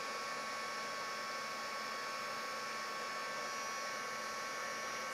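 A heat gun blows steadily while heat-embossing card, giving a loud, unbroken, even whooshing drone with a faint high whine throughout and no speech.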